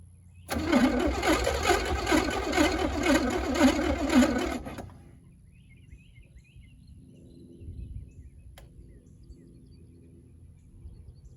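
The engine of a 1969 Pontiac GTO barn find cranks over rapidly with a whirring starter for about four seconds without catching, then stops, leaving faint low background rumble.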